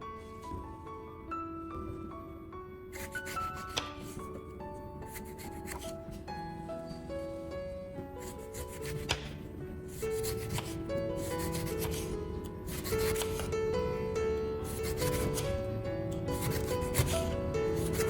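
Lemon peel is scrubbed with baking soda in steady, close rubbing strokes, a repetitive gritty scratching that carries through the whole stretch with no talking.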